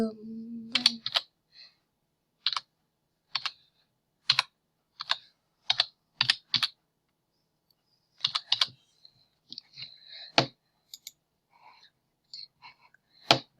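Keys tapped on a computer keyboard while building a project in Scratch, short separate bursts of clicks with brief pauses between them, close and clear, after a brief voice at the start.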